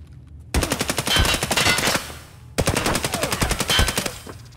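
Loud automatic gunfire in the shooter game Escape from Tarkov rips out in two long, rapid bursts separated by a brief pause, close and dominant with no voices.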